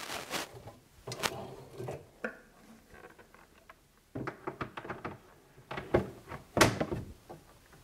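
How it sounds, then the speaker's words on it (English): A kitchen cabinet door is clipped back onto its hinges, giving a run of sharp close knocks and clicks with brief rattles, in bursts separated by short quiet handling sounds. "So clip the door back on, just like normal."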